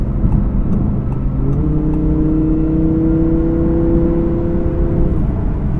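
An Audi R8 V10 Plus from 2017 accelerates hard, its loud, continuous engine note climbing steadily in pitch through a sustained pull before easing off near the end, with no talking.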